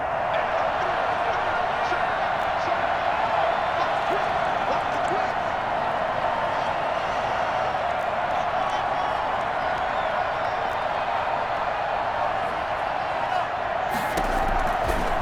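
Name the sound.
stadium crowd rising and cheering in a football video game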